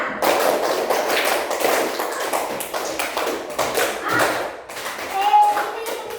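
Pupils in a classroom clap in a counted rhythm drill, giving a long run of bright, regular group claps near and loud, with children's voices underneath and a brief ringing tone near the end.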